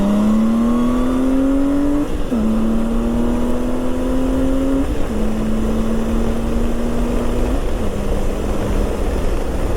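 A Honda Goldwing GL1800 motorcycle accelerates hard on a highway, its engine note climbing steadily through three or four gear changes with brief dips between shifts, loud and close under constant wind rush.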